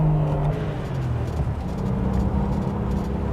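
A Porsche race car on a track, running without third gear: a loud, continuous engine drone and whir that stays close throughout, with no break.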